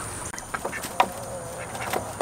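Ducks on a homestead making a few short, scattered quacks and calls at close range during evening chores, amid faint background noise.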